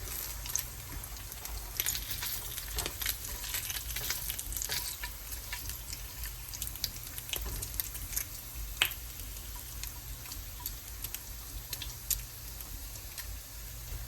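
Bacon strips sizzle and crackle steadily in a hot pan for the whole stretch, with dense popping spatters close by and no talking.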